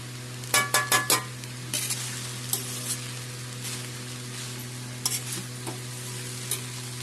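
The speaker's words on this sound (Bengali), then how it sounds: "এখন সব একসাথে মিক্সড করবো" Spoon scraping and stirring polao in a cooking pan, a few sharp rhythmic clanks at the start, then softer scrapes over a steady sizzle and a low hum.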